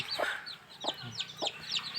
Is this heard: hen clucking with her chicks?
yes